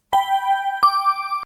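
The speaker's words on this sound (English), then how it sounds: "I'm going to add a synth with a bell tone," A synth bell-tone pad in a Band in the Box 70s funk song rings out in two sustained chiming notes, each struck brightly and then held, clean and alone.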